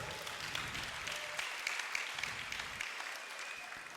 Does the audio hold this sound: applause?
yes